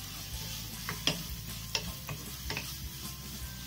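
Finely chopped medium onion frying in a pan for pepper chicken, a soft sizzle punctuated by a handful of sharp spoon taps and scrapes as it is stirred, close and fairly quiet, no speech.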